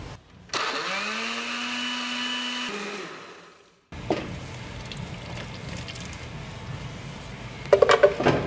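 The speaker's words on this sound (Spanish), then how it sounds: "Vamos a licuar el resto de los ingredientes" A blender whirs steadily for about two seconds while blending the remaining ingredients for a Tlacotalpan, Veracruz–style mole, then stops. Quieter kitchen clatter and a running rush follow, ending with a few sharp knocks.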